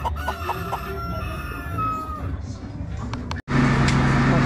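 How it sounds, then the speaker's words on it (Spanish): Chickens cluck and a rooster crows on a farm, the birds close and busy over steady background noise, with a person talking over them before a louder burst of rumbling commotion takes over. "ahí están los chickens, mire, Estercita, los pollitos"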